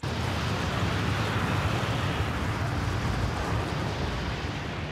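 A dense, steady roaring rumble of the Vesuvius eruption that buried Pompeii, an explosion opening its second phase, loud and unbroken, with a wind-like hiss over deep low-frequency power.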